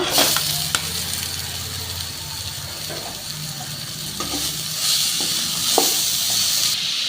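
Banana stem frying in oil with turmeric, a steady close sizzle and hiss with occasional scrapes and knocks as it is stirred, swelling louder toward the end.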